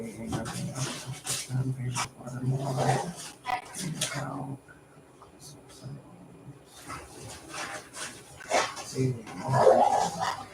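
A dog barks and whimpers a few times in a room, heard under and between people talking during a live chat stream.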